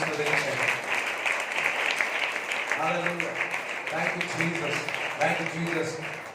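A church congregation applauds during a Good Friday service, with steady, dense clapping throughout and a voice speaking over it at intervals.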